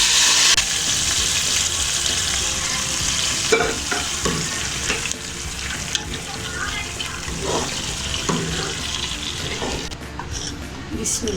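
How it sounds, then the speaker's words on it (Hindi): Whole red chilli tempering for kadhi pakora poured into the pot, a loud hissing sizzle that settles into softer bubbling and stirring clatter. "तड़का तैयार हो चुका है, अब मैं इसको कढ़ी में डाल देती हूँ इस तरह।"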